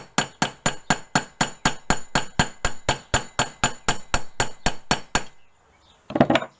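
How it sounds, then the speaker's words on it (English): A metal hammer strikes flat copper sheet on an anvil about twenty times in an even, quick rhythm, each blow a sharp ringing clink close by, then the striking stops and a brief clatter follows. "You go on with that hammer here, and hammer that flat again."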